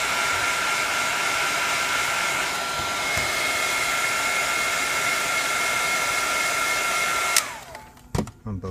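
A hair dryer blows hot air onto the adhesive behind a Samsung Galaxy S5 screen, a steady loud whir with a whiny tone that cuts off near the end, followed by a few sharp clicks.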